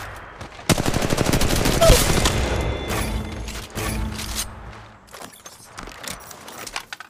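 Automatic gunfire from the mobile shooter game Apex Legends Mobile crackles in loud rapid bursts. Scattered single shots, mechanical clicks and game voice lines follow.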